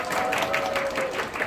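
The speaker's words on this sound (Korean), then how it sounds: "우리 박수 한번 보낼까요?" At a winter camp sermon, a group of children and listeners give a short burst of applause, a soft wash of many hands clapping briefly, somewhat distant and even in level.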